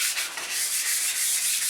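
Close, steady rasping of 220 grit sandpaper rubbing rust off a metal surface, quick back-and-forth strokes with a bright, hissing texture.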